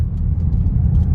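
BMW car turning at slowly increasing speed with traction control cutting engine power: steady low engine drone close by, slightly uneven and surging over a short stretch.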